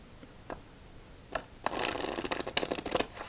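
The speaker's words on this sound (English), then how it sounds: "Let's do our victory shuffle." Playing cards being shuffled: a few soft taps, then a quick riffling burst of fluttering card snaps, close and crisp.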